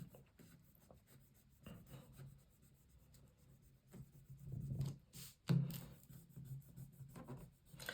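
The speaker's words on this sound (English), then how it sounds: "So I'm just going to rub them down." Firm rubbing of rub-on transfers onto paper photo mats for a hybrid tunnel album, a dry, scratchy rasping that comes in short strokes, with a louder burst of rubbing near the end and no talking.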